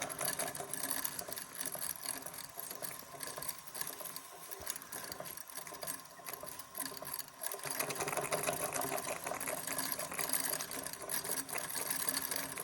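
A Jensen Model 75 engine turns over slowly and quietly, giving a steady, fast mechanical patter that holds throughout and grows slightly louder near the end, with no voices.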